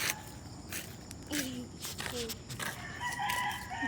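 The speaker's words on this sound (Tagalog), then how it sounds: "Tingnan mo, may manok din eh." A chicken crows outdoors during a road trip, several short crowing calls at moderate distance mixed with clatter and background voices.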